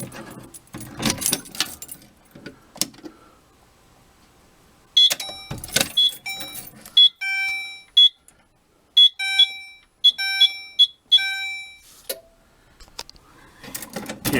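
A fire alarm system under test after a Fire-Lite BG12L pull station is pulled gives loud, shrill pulsed tones in a steady repeating pattern, following a stretch of handling and clatter.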